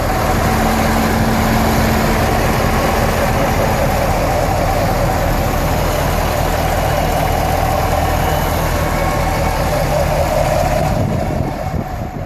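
A 2016 Chevy Camaro with a 6.2 liter V8 idles with a steady, loud, deep rumble that holds evenly throughout and eases slightly at the very end.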